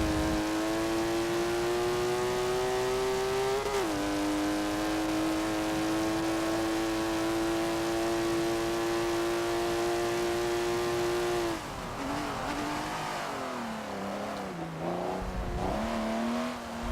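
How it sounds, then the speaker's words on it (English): A race car engine in Forza Motorsport 7 drones steadily at high revs, then drops and revs up and down unevenly, loud and continuous. "I think it's officially the best sounding car on Forza 7."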